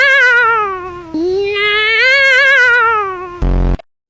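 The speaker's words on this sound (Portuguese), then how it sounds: "espantando com um grito do gato" A cat lets out a long, loud, close wavering screech that dips and rises in pitch, followed by a short harsh burst before cutting to silence.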